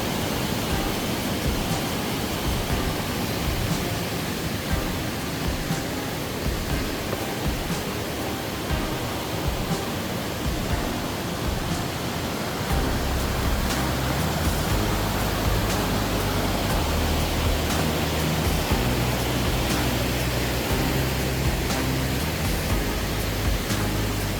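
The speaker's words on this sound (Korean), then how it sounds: "폭포 소리 들으면서 오니 힘든 줄 모르겠네요." Roaring waterfall and rushing mountain stream at Hongryong Falls, a two-tiered cascade beside a temple, a dense steady broadband roar that fills the whole clip, with a low rumbling layer thickening partway through.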